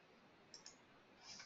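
A couple of faint, quick mouse clicks over near silence, followed by one louder, sharper click at the end, with no speech.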